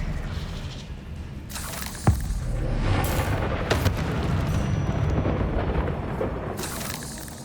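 A fiery Confringo spell explosion in Hogwarts Legacy lands as a sharp boom followed by a rolling, rumbling blast, with further bursts and crackling magic effects through the rest of the moment.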